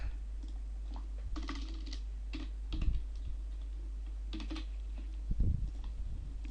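Scattered keystrokes on a computer keyboard as a date of birth is entered into an online application form, quiet taps spread irregularly across a few seconds with a couple of slightly louder clusters.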